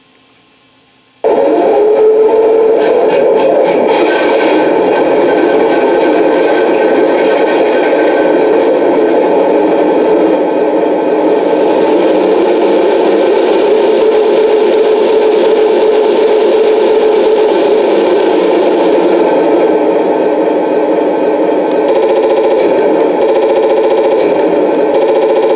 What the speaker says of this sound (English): the 12-cylinder Maybach engine, and that one sounds like this